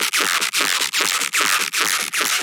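A crunchy white-noise texture layer processed through a vocoder, made in Ableton Live for an electronic track, pulses in loud rhythmic bursts of bright hiss with short gaps between them, alone with no talk.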